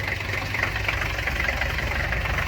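A homemade tractor's warmed-up engine runs loud and close, a rough steady knocking chug with slight swells as it is given throttle, with no talk over it.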